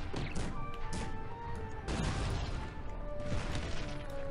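Cannons firing during a battle in the strategy video game Cossacks 3, with several heavy booming shots spaced a second or two apart over steady game music.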